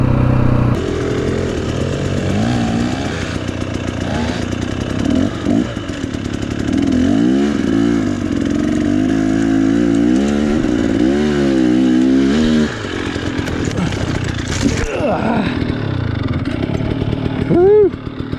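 Dirt bikes revving hard while climbing a steep hill trail, loud rising and falling engine bursts with shifting pitch, close and continuous, with brief voices mixed in.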